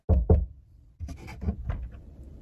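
A door is knocked twice in quick succession, loud and close, followed by shuffling and faint movement noises.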